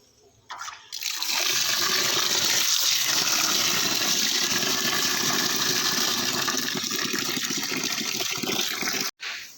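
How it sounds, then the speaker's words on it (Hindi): Lentils being washed in water while cooking a large batch of matar pulao at home, a steady loud gushing and splashing of running water that continues almost without break for around nine seconds, with no talking. "दाल धो लेते हैं।"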